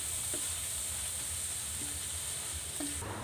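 Thai red curry paste with garlic and shallot sizzles steadily in a hot pan while being stir-fried for a pork and pineapple curry, a continuous close hiss broken by a few faint spatula scrapes.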